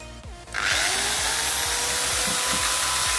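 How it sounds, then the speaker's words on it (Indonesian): An electric drill starts up after a brief quiet moment and keeps running with a loud, steady, high-pitched whine, close by. "saya hidupkan bor"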